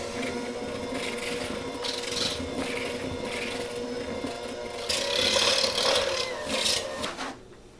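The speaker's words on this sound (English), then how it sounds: "And mix slow." Dough for a Swedish tea ring is mixed slowly in a bowl, giving a steady scraping, rubbing churn that swells louder near the end before stopping, close and without talk.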